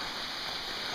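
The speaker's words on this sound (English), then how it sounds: "because it's raining out here" Steady rain falls outdoors during a storm, an even, continuous hiss of drops with no breaks or other sounds.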